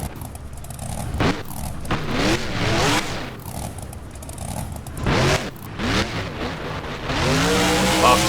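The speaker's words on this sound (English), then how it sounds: "They spin the truck around and practically breakdance the truck." A monster truck in the BeamNG video game revs hard while spinning donuts, its engine roaring continuously and loudly with rising and falling pitch sweeps and repeated throttle surges.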